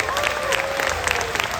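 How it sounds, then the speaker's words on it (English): A crowd applauds steadily at an esports event, a dense wash of clapping, while a voice talks over it. "And another round of applause for Sad Sheba."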